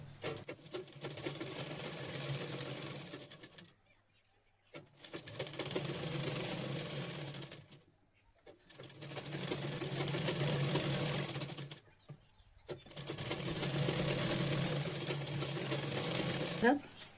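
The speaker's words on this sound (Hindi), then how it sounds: "लेस के ऊपर सिलाई लगाएंगे तो ये सीधा रख लेना है।" A sewing machine stitches a blouse sleeve onto lace in four steady whirring runs separated by short pauses, with someone speaking quietly over the machine.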